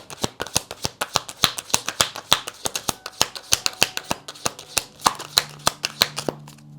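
Tarot cards shuffled up close in a quick, steady run of crisp riffling clicks and slaps, dozens of sharp taps in an even rhythm with no talking.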